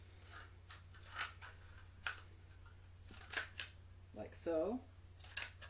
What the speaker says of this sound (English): So I'm just going to cut one tube in half.